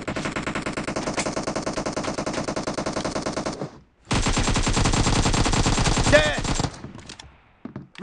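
Rapid automatic gunfire in a team-based video game, loud, dense machine-gun bursts firing continuously, a brief pause, then another long burst with a few scattered shots trailing off.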